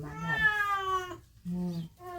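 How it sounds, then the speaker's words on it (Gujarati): A cat meows loudly while being given a bath: one long, drawn-out wail, then a short pause and two shorter cries close by. "અહીં મીંદડાનું નાણું ધોણું ચાલુ છે"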